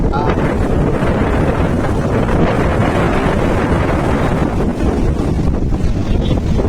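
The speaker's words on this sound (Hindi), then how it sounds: "ऊंची ऊंची लहरें।" Heavy ocean waves surge and crash continuously, mixed with strong wind buffeting the microphone.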